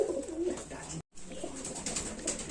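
Pigeons cooing at a pigeon sale, a steady close murmur of soft low coos with a brief dropout partway through; a faint voice may sit underneath.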